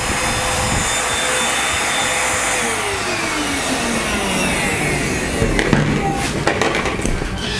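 An imax IMVC-20 cordless vacuum cleaner runs close by with a loud, steady whine and airy roar, its pitch shifting slightly, with some rattling clicks and knocks near the end.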